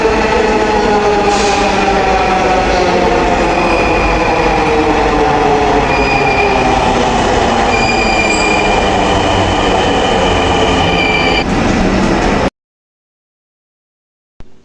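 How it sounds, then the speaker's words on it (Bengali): A metro train rolls into the station with a loud, steady rumble of wheels on rail, a faint squeal rising near the end before it cuts off into near silence. "আর যখন মেট্রোতে আসলো, ওটার সাউন্ডটা এত জোস লাগছে আমার কাছে।"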